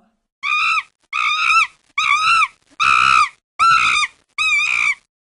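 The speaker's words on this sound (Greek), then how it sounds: "Αυτός είναι ένας χιμπατζής που στριγκλίζει." Six shrill, piercing chimpanzee screeches, each about half a second long, come in an evenly spaced series against near silence.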